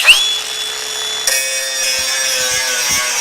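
A Hilti angle grinder whines at high speed, then its pitch shifts abruptly as the tool cuts out and the motor spins down, with light clattering and scraping near the end.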